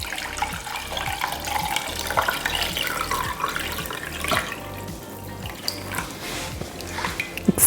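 Chicken broth being strained and poured, a continuous splashing trickle of liquid with small irregular gurgles and drips, close and moderately loud throughout with no speech.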